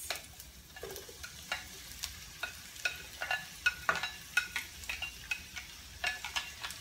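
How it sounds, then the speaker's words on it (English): Tomatoes going into a frying pan for baccala bring on a steady background sizzle, with intermittent clicks and stirring taps of a utensil against the pan. "And now let's go ahead and add the tomatoes."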